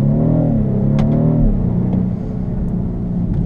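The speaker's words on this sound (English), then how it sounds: "See how fast it shifts the gears?" A 2015 BMW 328xi with four-wheel drive pulls hard in winter conditions, its engine note rising steadily, then dropping through a quick gear change before building again, loud and close throughout.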